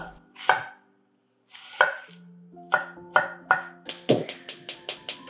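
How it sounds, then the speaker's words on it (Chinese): A kitchen knife chops garlic and onion on a board. A few widely spaced cuts come first, then a quick, even run of crisp chops near the end, close and clear with no talking. "我们来切点大蒜、洋葱"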